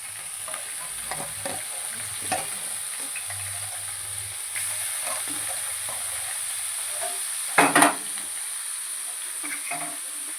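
Beans, carrots and tomatoes fry together in a pan for Punjabi-style eggplant bharta, a steady close sizzle broken by stirring scrapes and a louder clatter near the end.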